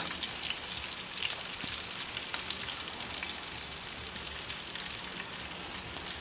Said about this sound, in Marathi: जेमतेम तेलावरतीच आपले हे फ्राय करून घ्यायचं